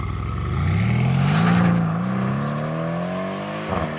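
A Mercedes C63 V8 biturbo sedan in Sport Plus mode revs hard: loud and close, the engine note climbs, holds a strong peak, then eases back to a steady drone before a short burst near the end.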